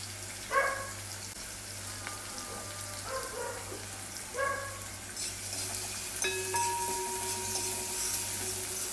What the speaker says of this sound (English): Let those seasonings sweat for a bit.